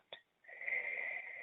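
A slow, deep breath released steadily during a guided mindfulness breathing exercise, a soft airy exhale sustained for about a second after a brief sharp intake, close and quiet with no talking.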